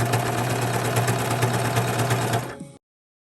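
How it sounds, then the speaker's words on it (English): A serger hums and whirs steadily, stitching the seams of knit fabric for a turtleneck top, a close continuous mechanical drone that stops abruptly near the end. "I'm going to be using a serger before I sew it with my sewing machine"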